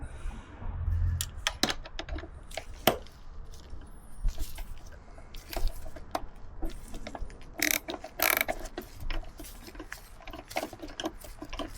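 Ratchet with a ball end socket clicking on the brake of a Moto Guzzi V85TT motorcycle in a workshop: close, dry, rapid pawl clicks in irregular bursts, alone and fairly quiet.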